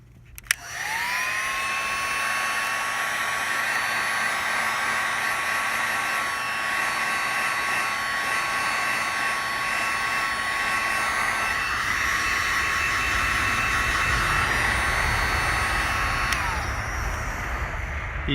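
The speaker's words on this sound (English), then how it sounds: "Heat gun's the best way to shrink it." Heat gun blowing to shrink heat shrink tubing on small LED rock light wires, a loud steady whooshing roar starting abruptly and running constantly before cutting off near the end, with no talk.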